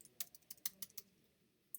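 Quiet clicks of a computer keyboard being typed on, a short burst of about half a dozen keystrokes in quick succession, then a pause and one final tap.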